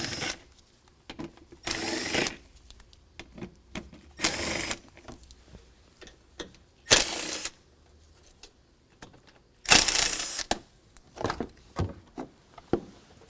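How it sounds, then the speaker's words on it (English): A power tool spins an 8mm socket to back out bolts on a 2019 Ram 1500 during a fog light install, sounding in short whirring bursts about a second long with quiet pauses between them. "remove these 5 bolts right here using an 8mm socket"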